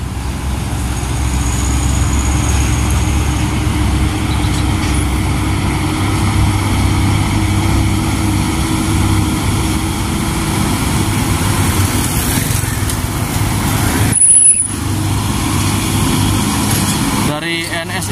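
A Hino truck drives past on a Bogor hill road, its loud, steady engine drone close by while someone talks over it.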